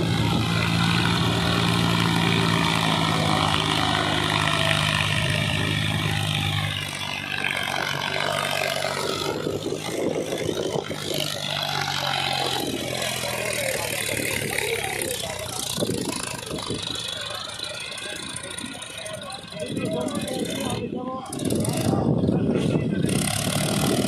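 Two diesel tractors, a Sonalika DI 750 and a Mahindra 265 DI, run loud and close in a pulling contest, their engines droning and labouring with shifting pitch and rev surges throughout.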